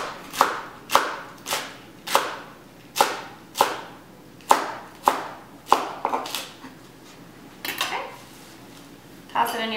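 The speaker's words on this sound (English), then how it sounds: "Cut the tip off and just run your blade along it." A knife chopping a vegetable on a cutting board: about a dozen crisp, evenly spaced knocks close up, the steady rhythm breaking into faster cuts near the end.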